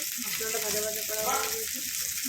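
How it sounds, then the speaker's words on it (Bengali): Spices frying in a wok, a steady broadband sizzle running throughout, with faint voiced tones and background speech murmuring underneath, close and moderately loud. "এরপর মশলাটা ভালো করে ভাজা ভাজা হলেই এটা ঢেলে দেবো।"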